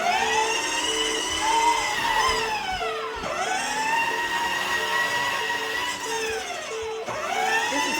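A battery-powered toy police motorcycle runs indoors with a steady motor whir under a looping electronic siren that repeatedly rises and falls, loud and close, with no talking.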